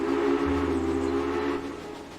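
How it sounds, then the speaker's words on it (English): A steady, loud whistle sounds from a train in the Railway Empire video game, holding a sustained tone for about a second and a half over rumbling rail noise before fading. "Now we can blow the whistle."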